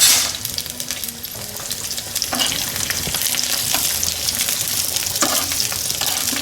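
Garlic sizzles and fries in ghee in a pan, a continuous crackling hiss close up with occasional stirring scrapes, and no talking.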